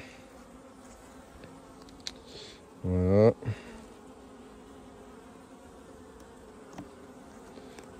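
A honey bee buzzes loudly past the microphone for about half a second near an open nucleus hive, with a soft hum in the background and a brief spoken word.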